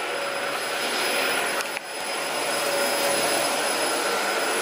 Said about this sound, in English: You look happy to be vacuuming, don't you?